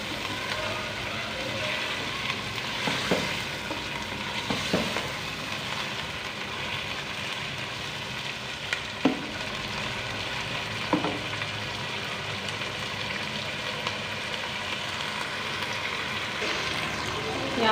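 Chicken pieces frying in a pan during a chicken and masoor dal recipe, a long continuous sizzle with occasional spatula knocks and scrapes, fairly soft and even throughout.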